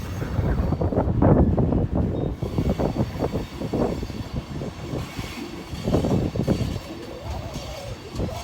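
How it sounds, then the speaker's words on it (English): A grain hopper freight train rolls past in Manchester, Georgia with uneven rumbling and rattling of cars, close and fairly loud, with wind buffeting the microphone. "See, it says grain hopper train."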